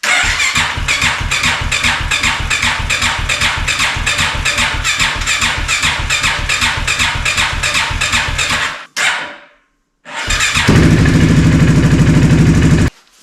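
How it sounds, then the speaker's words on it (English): A Polaris Sportsman 450 engine mounted in a small Ford Raptor replica cold starts: a loud, steady, rapidly pulsing crank, a short pause, then the engine catching and running with a rough, close idle. "Now I'm gonna do a cold start on this real quick and see if there's a difference."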